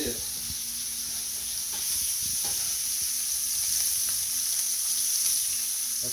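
Deer backstrap sears in a cast iron pan with butter and oil, giving a steady, close hiss and sizzle with a faint high whine and occasional soft knocks.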